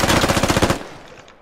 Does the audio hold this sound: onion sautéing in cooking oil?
no